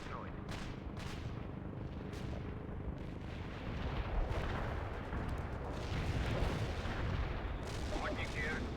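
Artillery barrage in the war strategy game World in Conflict, a dense continuous rumble of distant shell impacts and gunfire with sharper bursts cutting through, swelling louder toward the end, with faint radio voices mixed in.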